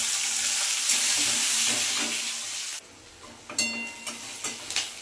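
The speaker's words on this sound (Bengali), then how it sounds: "এবার দিয়ে দেবো পেঁয়াজ কুচিটা।" Chopped onion hits hot oil already tempered with dried red chilli and black cumin seeds, giving a loud, steady frying sizzle. It then drops suddenly to a softer hiss broken by a few clinks of stirring.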